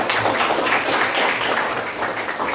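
Steady applause from a group fills the whole stretch, a dense wash of clapping at a constant level with no voices standing out.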